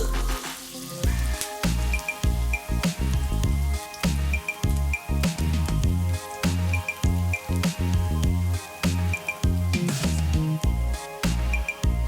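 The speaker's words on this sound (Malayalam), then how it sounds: "ഇനി അത് എല്ലാം കടുകൊക്കെ പൊട്ടി ഉലുവയൊക്കെ പൊട്ടിയ ശബ്ദം കേൾക്കുന്നുണ്ട്" Mustard and fenugreek seeds, with halved dried red chillies, crackle and splutter in hot oil while tempering for a Kerala lemon pickle, a dense, steady run of sharp pops and sizzling across the whole span, close and loud with no talk.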